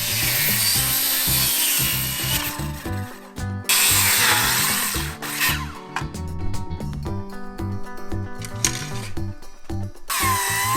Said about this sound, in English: Rip it into small pieces with a circular saw and adjust the dimensions by the planer.